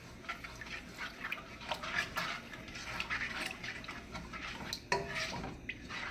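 A spoon stirs ogbonno into a pot of okra soup, making faint, steady scraping and clinking against the pot with soft wet sloshing, close by but quiet.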